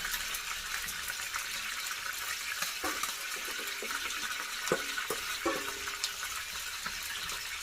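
Casserole liquid poured into a hot pan while making French cassoulet, giving a steady soft sizzle and watery hiss with a few scattered clinks and splashes, no talking.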